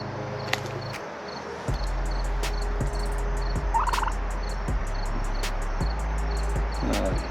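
Young Reuben Red heritage-breed turkeys raised for holiday meals let out a short gobble mid-clip, heard against a constant, evenly paced ticking of insects in a backyard pen.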